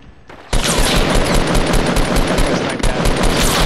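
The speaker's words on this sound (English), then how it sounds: "Ooh, I just got sniped at." Dense, loud burst of rapid gunfire in the Fortnite battle royale video game, starting abruptly after half a second and continuing as a harsh continuous barrage to the end.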